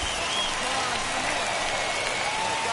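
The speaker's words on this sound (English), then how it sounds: "listen to this crowd now. They are really into this." A baseball crowd in MLB The Show 21 cheers in a steady, dense roar that fills the whole stretch, with a voice faintly underneath.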